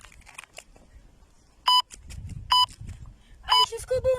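Workout interval timer sounds during a full-body strength training session: three sharp electronic beeps about a second apart, then a quicker run of shorter, lower tones, with faint movement and background voice between them.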